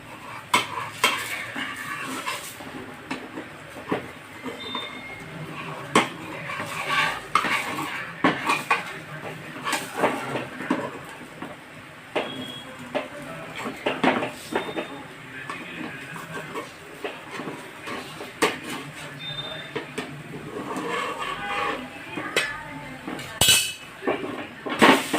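Dirde, a Marathi pancake, being turned over in a pan, with clinks and light scrapes of a utensil against metal cookware over a steady cooking hiss, close and moderately loud throughout.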